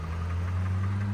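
A car engine idling steadily with a low, even hum; the owner reports a small cutting sound while driving, though no distinct cut stands out in this short stretch.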